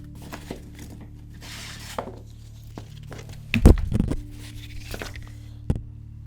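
Packing straps being pulled off a boxed 1:4 scale statue, giving scattered soft scrapes and rustles, then a loud cluster of tearing and snapping near the middle and a single sharp snap near the end.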